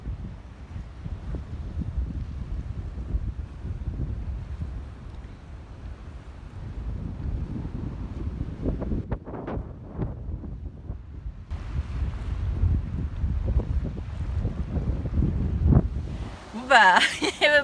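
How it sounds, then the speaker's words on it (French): Strong wind buffeting the microphone on the Bay of Fundy shore, a steady loud rumbling roar that swells in gusts throughout, with water sounds underneath and brief voices near the end. "il y a tellement de vent, ça souffle de ouf"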